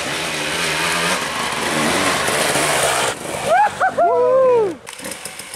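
Two-stroke enduro dirt bike engine at Romaniacs in a Romanian forest, revving hard with rising and falling throttle blips, loud and close, then a brief quieter pause near the end.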